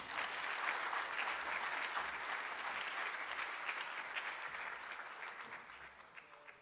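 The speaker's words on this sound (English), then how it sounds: "and a round of applause, everybody." An audience claps steadily to welcome a guest lecturer, Prof. Nkuhlo, at a public institutional lecture, the sustained applause fairly distant and even throughout with no voices over it.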